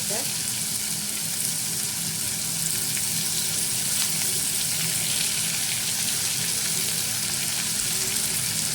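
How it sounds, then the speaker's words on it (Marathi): Capsicum and onion stir-frying in a little oil for Schezwan or Hakka noodles, a steady broadband sizzle that runs close and loud without a break, with faint scraping of a spatula now and then. "आता हा ओनियन टाकून झाला आता आपण कॅप्सिकम टाकूया"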